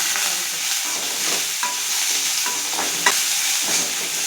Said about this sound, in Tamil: ரெண்டு மிளகா கொஞ்சமாக பூண்டு ஒரு அஞ்சாறு பல் பூண்டு நல்லா வதக்கலாம்